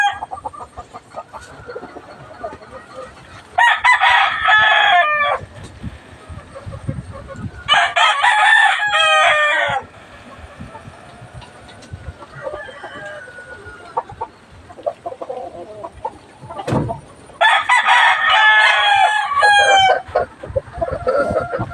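A rooster crows loudly several times in separate bursts, with hens clucking softly in between, close by in an open yard.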